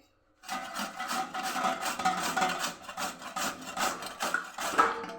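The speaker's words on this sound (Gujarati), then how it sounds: "અને હવે પપૈયાને આપણે ખમણી લેવાનું છે" Peeled raw papaya is rubbed back and forth across a grater, giving a continuous close rasping scrape with a steady stroke rhythm and no voices.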